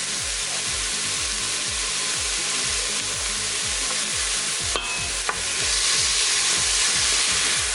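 Beef browning in an Instant Pot, a loud, steady sizzle with hiss and repeated rhythmic stirring scrapes, plus a couple of sharp clinks near the end.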